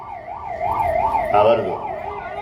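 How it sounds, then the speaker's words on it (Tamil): Wailing ambulance siren approaching through a crowd at a political party gathering, its rising and falling tone sweeping steadily and growing louder over a murmur of crowd noise. "ஆம்புலன்ஸ் வர்றதுக்கு நம்ம கட்சியினர் வழிவிடுமாறு அன்போடு கேட்டுக்கொள்கிறோம்"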